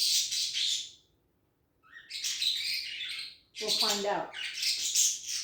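A pet parakeet chirps and squawks in the background in bursts between pauses, with a voice speaking briefly partway through.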